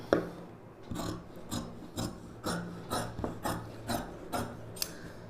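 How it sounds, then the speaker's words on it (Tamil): Scissors cutting blouse fabric on a table with a rhythmic run of about a dozen crisp snips and rasps, close and fairly even; no talking. "இப்போ இதை அப்படியே நம்ம கட் பண்ணிக்கலாம்."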